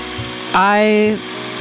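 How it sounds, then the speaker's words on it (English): A power drill bores a hole in a handheld old rotary telephone casing, giving one short whining burst of about half a second that rises and then stops, loud and close, between stretches of quiet room noise. "Go ahead, drill that hole."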